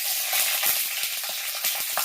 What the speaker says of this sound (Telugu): ఆయిల్ అయితే వేడైందండి, తాలింపు గింజలు వేస్తున్నాను